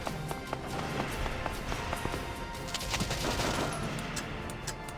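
Dense gunfire rattles through a battle in the video game Valkyria Chronicles, with rapid overlapping shots, machine-gun bursts and occasional heavier blasts filling the scene continuously at moderate loudness, no voices.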